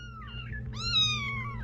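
Stray rescue kittens and cats meowing, two short rising-and-falling meows in a row, the second louder and longer, heard close over a low steady background hum.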